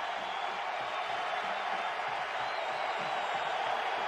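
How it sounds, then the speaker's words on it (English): A big stadium crowd at a 2001 college football game between Miami and Virginia Tech roars in a steady, broad wash of cheering that swells slightly, heard from a distance beneath a commentator's voice. "And now the crowd coming to life."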